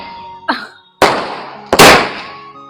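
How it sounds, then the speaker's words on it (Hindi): Firecrackers set off during Karwa Chauth celebrations burst in three sharp, loud cracks about half a second apart, each ringing and decaying briefly before the next. "अब हमारे पटाखे फूटेंगे।"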